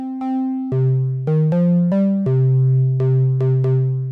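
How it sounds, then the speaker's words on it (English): A synthesizer plays a short sequence of smooth, hollow-sounding notes with a soft triangle-like tone, about a dozen pitched steps, alone and clear. "Almost triangle wave-ish there."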